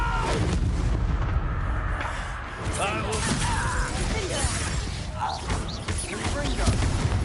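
Disarming spell cast during combat in a wizarding video game: a sharp magical burst amid dense, continuous battle effects and booming impacts, with a voice shouting over the clamor.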